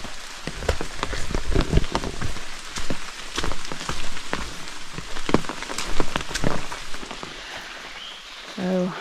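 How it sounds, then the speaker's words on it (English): Steady rain patters on an open umbrella along a hiking trail, a dense close crackle of drops with louder bursts, heard alone without talking. "It seemed to start raining pretty good there, so"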